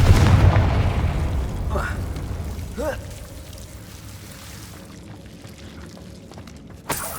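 Fiery Confringo blasting spell in the video game Hogwarts Legacy, a loud, rumbling burst that fades into a long decaying roar, followed by a short whooshing sweep and a sharp crack near the end.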